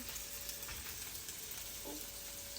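Pork sautéing in a pan for menudo, a steady moderate sizzle with crackling spits throughout and a brief scrape of stirring near the end; no talking.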